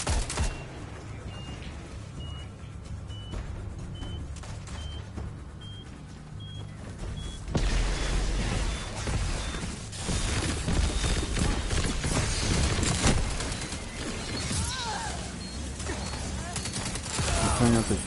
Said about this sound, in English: Trying out the shotgun.